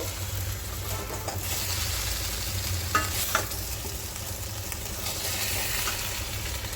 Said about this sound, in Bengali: এবার ভাজা আলুটা এবার দিয়ে দিচ্ছি, একটু নাড়াচাড়া দেব